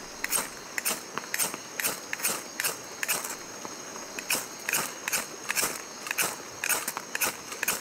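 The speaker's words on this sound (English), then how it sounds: "I can get the tape to ignite when I hopefully ignite the magnesium shavings with a spark" Sparks struck onto magnesium shavings to light tape, heard as a quick series of about a dozen sharp, close scraping strikes in a steady rhythm over quiet outdoor background, without talk.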